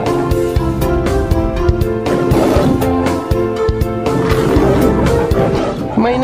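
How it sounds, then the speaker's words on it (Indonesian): Toy lion plays an electronic roar with harmonic tones and music-like layers, loud and continuous for several seconds, filling the whole stretch without pause. "namanya mainan singa. Ini singa dan suaranya."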